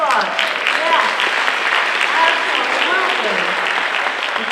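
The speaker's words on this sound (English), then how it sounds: "give yourselves a round of applause" Parents at a high school family information meeting applaud themselves, a dense, steady clapping from a seated crowd in a room, with cheers and voices mingled throughout.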